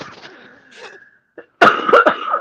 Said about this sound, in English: now you're coughing.